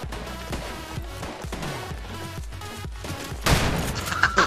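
Gunfire in Call of Duty Modern Warfare Remastered: a rapid run of sharp shots with echoing tails, thumping at a steady pace and then turning into a louder, denser burst near the end.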